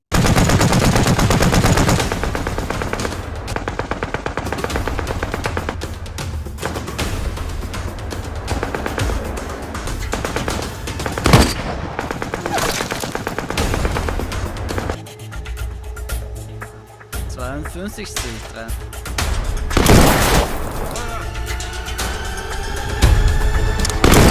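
Loud machine-gun and rifle fire in a World War II battle scene, Soviet troops against a German sniper, with sustained bursts, sharp single shots and crashes over a dense orchestral-like background throughout.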